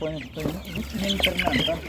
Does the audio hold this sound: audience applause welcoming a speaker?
no